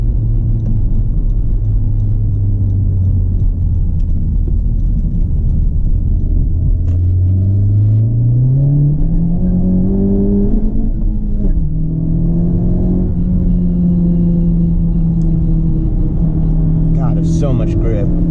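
A 2018 Honda Civic Type R FK8 driving on a road, its engine a loud, close rumble that rises in pitch as it accelerates, eases on a shift, then holds steady, with someone talking over it.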